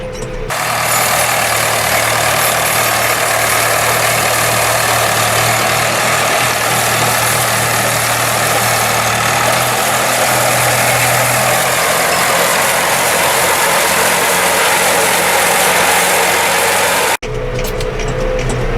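A vintage Nuffield tractor engine runs steadily at a constant drone while the tractor works a field with chain harrows, loud and close throughout, cutting off abruptly near the end.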